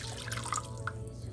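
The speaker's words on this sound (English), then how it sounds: "I'm gonna go ahead and add a cup of water and a cup and a half of milk." Water and milk are poured into a cooking pot in a home kitchen, a faint, continuous liquid splashing and dripping over low background hum.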